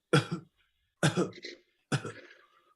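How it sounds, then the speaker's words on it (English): Three short, light coughs, evenly spaced about a second apart, close by in an otherwise quiet room. "cough lightly"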